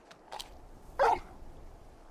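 In the game Final Fantasy XVI, a very large dog gives a single short bark after a couple of faint yips, close and clear against a quiet background.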